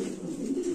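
A modern-breed female pigeon gives a single short, close, low cooing note.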